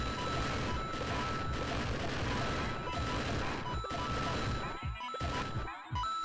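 Assault rifle and turret gunfire in the Super Mario World Overrun game on Insane difficulty, as a dense, continuous barrage of shots and impacts that breaks into a few sharper bursts near the end.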